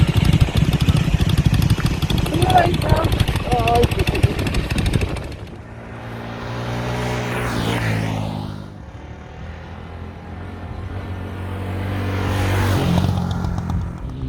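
A Yamaha YZF R125 motorcycle running outdoors, first a loud rough rumble, then an idling note that swells into revs twice, fairly close.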